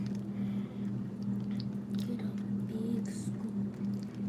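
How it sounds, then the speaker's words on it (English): Thick sour cream is stirred in a big container, making soft, wet squishing sounds over a steady low background hum. "So I'm going to stir that a little bit on the top."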